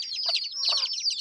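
Quick, high chicken clucks and chirps from a bird in the Philippines, a couple of short bursts over a steady shrill tone, fairly close and alone without talk.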